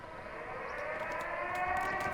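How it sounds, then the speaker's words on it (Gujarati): A wailing civil-defense-style siren sounds steadily in a Call of Duty match, a sustained rising tone heard at moderate distance behind faint game effects, with no talk. "સાયરન વાગી ગયો"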